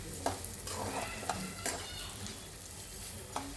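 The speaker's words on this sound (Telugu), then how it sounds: "ఇప్పుడు ధనియాలు వేసుకోండి" Coriander seeds roast in a pan with a steady, close sizzle, while a spoon stirs them and scrapes and taps the metal in a few sharp knocks.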